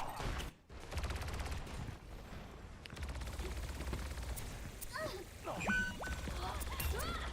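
Gunfire in a first-person shooter game, rapid bursts of shots with mechanical clicks, over a steady background bed with a person talking at moments.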